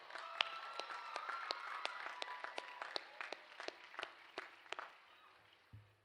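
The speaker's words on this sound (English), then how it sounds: "Let's give them a round of applause as well." A commencement audience claps for nursing students, a spread of individual claps that thins into sparse scattered hand strikes and fades out after about five seconds.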